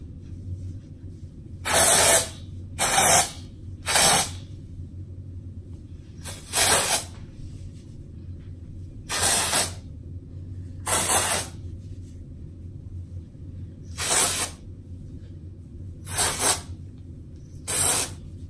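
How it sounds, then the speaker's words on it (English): Dry shampoo sprayed from an aerosol can onto hair in a series of about ten short, sharp hissing bursts, some in quick pairs, with quiet pauses between them. "I just sprayed a lot of dry shampoo."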